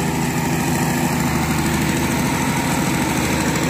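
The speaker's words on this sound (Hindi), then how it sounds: "यहाँ जनरेटर चल रहा है, इस वजह से आवाज़ नहीं आ रही होगी आप लोग को" A generator runs at a railway station, giving a loud, steady, droning engine hum that fills the whole moment without letup.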